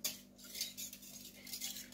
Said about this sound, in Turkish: güzelce karıştırıyoruz ki maya sütle iyice özdeşleşsin